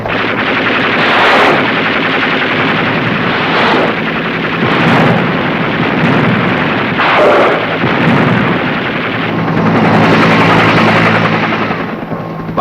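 Seawolf helicopter gunships fire machine guns and rockets over Vietnam's delta and coastal waters, producing loud, dense, continuous bursts of gunfire and rumbling blasts that swell and recede over a steady engine drone.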